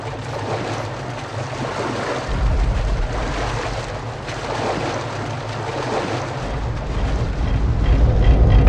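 Water waves in the Metro Last Light video game: a steady, close wash of surf and rushing water with swelling low rumbles, heard alone with no voices.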